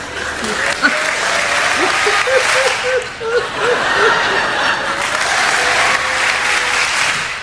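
A theatre audience at an Eddie Izzard stand-up comedy show applauds steadily throughout, dense clapping with scattered chuckles and laughter mixed in.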